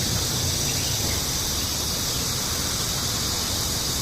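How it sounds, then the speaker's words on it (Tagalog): Crickets chirping in a wooded area, a dense continuous high-pitched shrill that fills the air steadily and loudly with no pauses and no talking. "May maingay dito parang ano, kuliglig."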